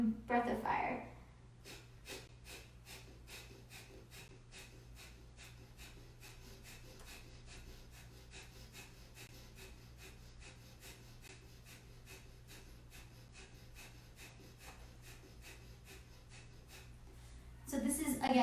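Breath of fire, the rapid Kundalini breathing exercise done in tuck position: a long, even run of quick, sharp, forceful nasal exhalations at a steady fast rhythm, close and moderately loud, with brief movement noise at the start and end.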